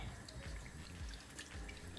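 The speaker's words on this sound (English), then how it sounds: "I'm gonna add some more water. This is about a cup and a half more of water." Water pours steadily into a cooking pot of stewing cabbage with smoked turkey, a continuous close splashing trickle running unbroken throughout.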